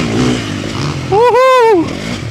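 A motorcycle rides past loudly with a steady rushing engine roar, while people talk and one voice lets out a rising, drawn-out exclamation over it.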